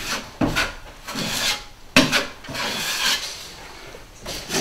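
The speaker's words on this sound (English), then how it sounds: "get a little bit of mud on your knife. Wipe the excess taping mud off." A drywall knife wipes excess taping mud along a wall, making repeated close scraping strokes with sharp taps at the start of some passes, steady and moderately loud.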